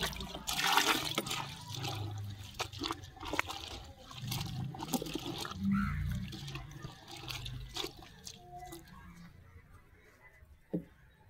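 Water splashes and gurgles as it is poured into a container of kitchen waste for liquid fertilizer, with a steady liquid rush and a few bumps and knocks nearby.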